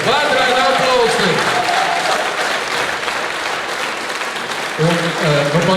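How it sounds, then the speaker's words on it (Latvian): Loud, enthusiastic audience applause in the foyer of the VEF Culture Palace during a concert, sustained throughout, with some voices and cheering mixed in at the start and end. "Vētraini aplausi!"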